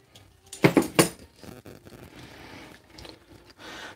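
Spoon stirring paint in a container, a few sharp clinking scrapes clustered near the start, then quieter soft scraping and tapping for the rest, close up with no talk.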